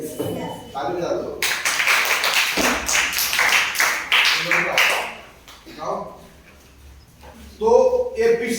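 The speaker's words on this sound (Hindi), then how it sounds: "ताली बजा दो" Students in a classroom break into a short burst of clapping that lasts a few seconds, with a teacher's speaking voice before and after.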